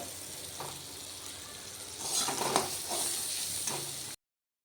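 Onion with ginger-garlic paste, tomato, chili powder, turmeric and salt fry in oil, giving a soft, steady sizzle that swells midway as the mixture is stirred, then cuts off abruptly near the end.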